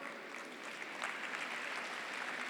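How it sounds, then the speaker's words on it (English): Applause from an orientation audience of students in a hall, a dense, steady wash of many hands clapping at moderate distance and fairly soft, sustained throughout with no talking. "please give a clap to yourself"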